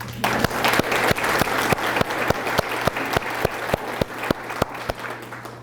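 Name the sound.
audience applause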